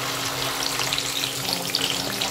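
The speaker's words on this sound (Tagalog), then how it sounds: "So, i-prito na natin." Daing na bangus, a large split and dried milkfish, fries in hot oil with a loud, dense, steady crackle and sizzle, close by and without speech.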